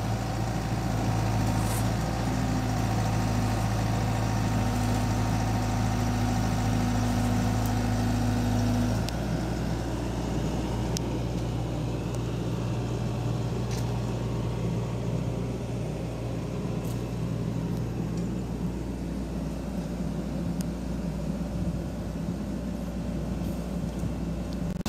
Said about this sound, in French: ce vieux moteur là qui est là et qui fait chier tout le monde